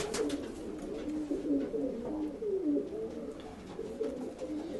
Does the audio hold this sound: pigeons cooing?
yes